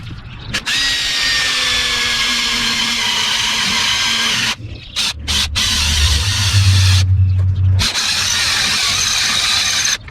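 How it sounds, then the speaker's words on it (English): A power drill whines loudly, stopping and restarting several times, with a lower grinding tone as the bit bites into metal. "when you're drilling through metal, More push, less drill."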